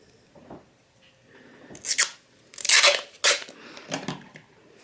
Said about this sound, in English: pop some electrical tape over the top of that